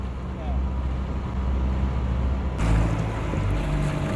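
A boat motor strains while underway, giving a continuous low droning rumble that gets rougher and louder partway through, with faint talk in the background.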